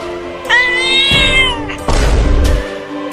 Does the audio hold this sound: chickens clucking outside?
no